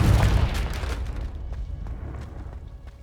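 A Confringo blasting spell explosion in the Hogwarts Legacy video game, with one sharp boom at the start, then a fading rumble and scattered small crackles.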